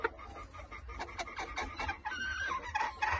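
Several chickens cluck and chatter nearby, overlapping calls with a low background hum.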